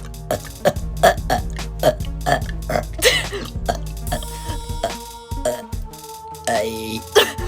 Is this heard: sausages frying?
no